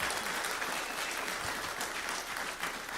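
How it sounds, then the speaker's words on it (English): Brief, dense applause rises from an audience thanking two speakers after an Alberta independence talk, heard as a steady wash of clapping at moderate distance with no voices. "Please give them a big round of applause"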